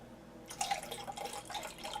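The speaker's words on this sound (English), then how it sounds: "And then just top that off with water. Just cold water." Cold water poured from a tap into a cup, a steady splashing trickle that starts after a short pause and runs on with small drip-like spatters, close and fairly quiet.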